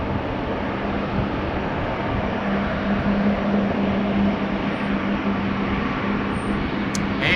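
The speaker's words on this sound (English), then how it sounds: "More pronounced sounds emanating from the 777." A Boeing 777 at wet Schiphol Airport in Amsterdam makes a continuous broad engine rumble with a low droning tone, holding steady and fairly loud throughout, with no speech.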